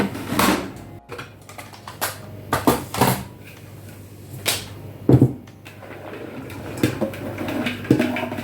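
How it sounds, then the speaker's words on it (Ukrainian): Zucchini is sliced with a handheld kitchen cutting gadget. Sharp, irregular cutting clacks and thuds come close up, roughly a dozen in uneven rhythm, over a quiet background with no talking. "І я буду різати ось так свої кабачки."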